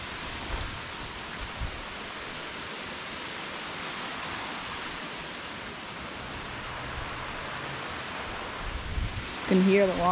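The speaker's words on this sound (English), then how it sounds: "Can hear the waterfall from here." A distant waterfall high on Mount Marathon near Seward, Alaska, gives a steady broadband rush like pink noise, even and unbroken for the whole stretch, with a brief louder rustle near the end.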